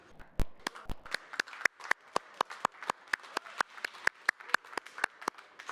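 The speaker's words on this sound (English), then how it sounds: "So how about a nice round of applause for everyone here at King's Resort?" Scattered applause at a WSOP Europe poker final table at King's Resort: sharp, distinct claps from a small group, uneven at first and then settling into a quicker, steadier patter.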